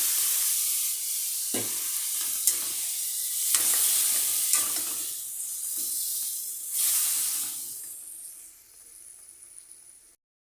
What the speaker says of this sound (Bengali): এখন আমগুলি ছেড়ে দিচ্ছি